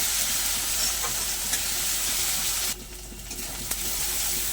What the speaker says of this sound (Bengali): আদা রসুন একসঙ্গে বাটা সব কিছু একসঙ্গে খুব ভালো করে একটু ভাজা ভাজা করে নেবো